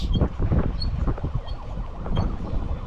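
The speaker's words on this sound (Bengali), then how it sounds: "আজকে খুব সম্ভবত বৃষ্টি নামছিল যার কারণে হচ্ছে প্রচুর বাতাস" Strong gusting wind before rain buffets the microphone during a bicycle ride through a university campus, a loud, uneven low rumble with rushing air throughout.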